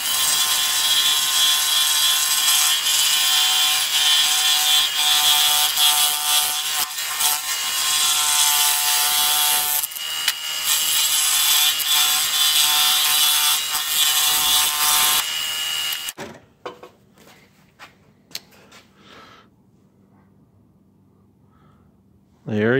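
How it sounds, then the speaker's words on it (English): A power saw cuts out a wooden heart while the workpiece is guided around the blade, a loud continuous high whine for about fifteen seconds that then stops, leaving quiet handling noises. "I won't be holding the saw, I'll be holding the piece of wood and moving it around the blade."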